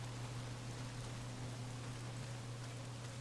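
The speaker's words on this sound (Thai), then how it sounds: "ฝนมันตกแบบเนี้ย" Steady rain falls throughout in the video game Days Gone, an even broadband wash over a continuous low hum, with no voices.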